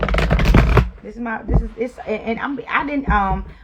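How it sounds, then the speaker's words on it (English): A quick burst of cards being riffled and shuffled up close, followed by a person talking. "let me shuffle these cards"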